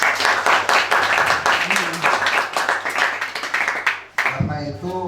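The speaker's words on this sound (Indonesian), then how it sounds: "Kasih tepuk tangan dulu." Rhythmic audience clapping at a community political gathering in Riau, with many hands beating in a fairly regular pulse for about four seconds before stopping abruptly as a voice resumes.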